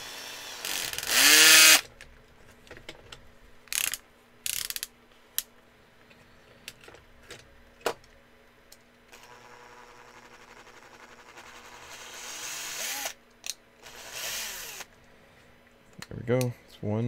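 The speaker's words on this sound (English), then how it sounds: "Instead of drilling it out, I could just overdo the screw in." A power drill drives a screw in during a live build, sounding in short whirring bursts separated by pauses, with a person talking in between.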